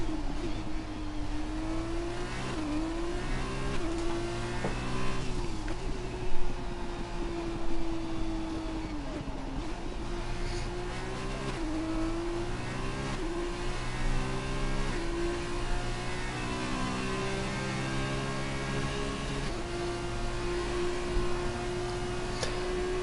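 A race car in a sim racing game at Baku runs a qualifying outlap, its engine droning steadily with repeated pitch rises and dips through gear changes and corners. The sound is fairly faint and continuous, with no talk over it.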